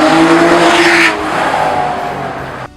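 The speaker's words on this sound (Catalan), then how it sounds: "Increïble el so del V12." An Aston Martin Vantage V12 engine fires and revs hard, a loud, close roar that holds for about a second, then eases into a lower, steadier idle before cutting off abruptly; no voices.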